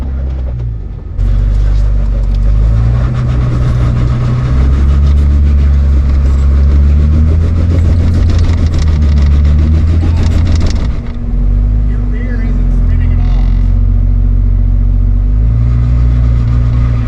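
A Jeep engine revs on a hard Moab trail with its rear axle broken, the drone steady and loud throughout, with a brief dip near the eleven-second mark before it picks back up.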